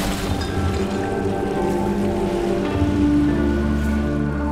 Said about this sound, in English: record the sounds of boats, creeks, sails, and waves